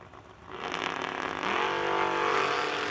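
A race car engine at a drag racing event, a Monza, rising from a low idle into a loud, sustained rev that builds and holds steady with a strong harmonic whine.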